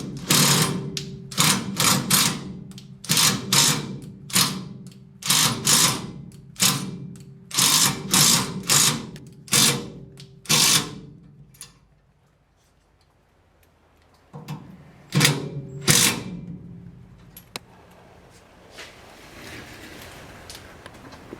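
A power driver sinks a self-tapping screw into thick metal on a 1971 Chevy C10, with a rapid run of short clattering bursts, then a quiet gap, then a few more pulses before it falls silent.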